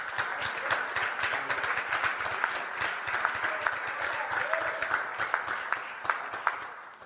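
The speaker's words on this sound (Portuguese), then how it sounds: "Pode aplaudir o Senhor" A church congregation applauds together in a sustained, even wash of clapping, moderately loud and filling the room, with a few sharper individual claps standing out.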